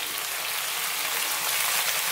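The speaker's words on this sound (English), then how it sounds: "I'm now going to add our onions" Onions dropped into a hot pan for Kerala-style beef curry set off a bright, steady sizzle, close and even throughout with no talk.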